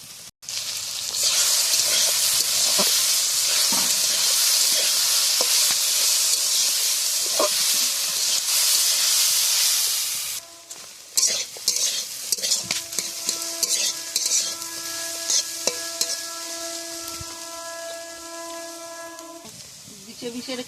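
Boiled taro fries in a pan over a wood-fired stove, a loud close sizzle with stirring scrapes for about ten seconds, then quieter intermittent spatter and clinks while a steady tonal hum runs underneath.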